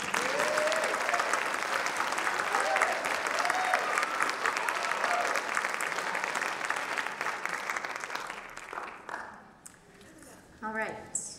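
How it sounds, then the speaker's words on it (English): A warm round of applause from the audience at a high school spring choral concert, dense sustained clapping with some crowd voices that tapers off before a speaker begins talking near the end. "for now you can receive a warm round of applause"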